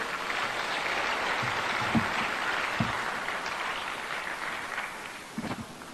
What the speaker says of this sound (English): Let's applaud one more time Ghana's Accountant General.